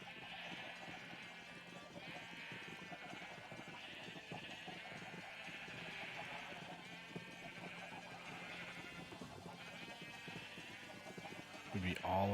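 Sheep bleating in Minecraft, mixed under steady game sounds and a talking voice, with a louder burst near the end.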